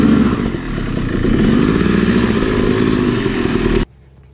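A rebuilt Yamaha YZ250 two-stroke motorcycle engine runs loud and close with a steady buzzing drone and rough clatter. It cuts off abruptly near the end, leaving quiet.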